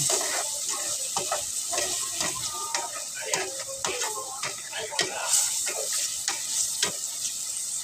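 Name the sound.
potatoes frying in oil for french fries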